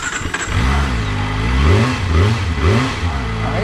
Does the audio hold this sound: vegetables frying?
no